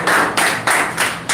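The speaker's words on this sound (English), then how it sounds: "A big round of applause for him." Applause from a spoken English class audience welcoming a student speaker up front, heard as about four short bursts of clapping in quick succession, fairly close, with no talk.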